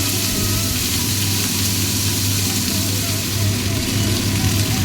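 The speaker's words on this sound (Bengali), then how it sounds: "এদিকে আমি বরবটি ভাজাটা ভাজা করে নিচ্ছি" Yardlong beans fry in a pan with a steady, continuous sizzle, close and even throughout, backed by a low constant hum.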